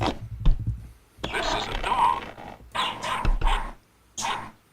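A dog barks and growls in a living room in several loud, close bursts separated by short pauses.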